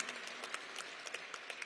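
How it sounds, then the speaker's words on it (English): A crowd gives a warm round of applause at the introduction of a new college head football coach, steady scattered clapping heard faint and distant throughout. "Give him a nice, warm round of applause."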